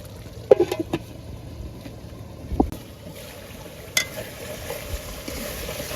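Spices and salt fry in oil for Bengali haleem, with a low, uneven sizzle and a few scattered knocks and scrapes as the mixture is stirred in the pot. No one speaks.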